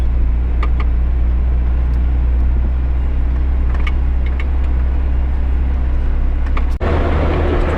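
A GAZelle van's engine drones loud and steady while driving on the road at night, a constant low rumble with faint ticks on top and a brief dip near the end.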